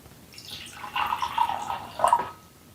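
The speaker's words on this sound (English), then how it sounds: "So here I have three glasses that I'm going to fill with water." Water poured into three glasses, a little into each; short bursts of splashing liquid, close and fairly clear, with brief pauses between pours and no talking.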